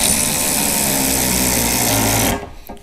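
Impact gun running a bolt on a Polaris Ranger lift kit, a loud continuous buzzing whir held for over two seconds, close by, then cutting off abruptly.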